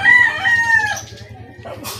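A rooster crows in a few drawn-out, wavering calls near the listener, with soft clucking and a quick scratchy burst at the end.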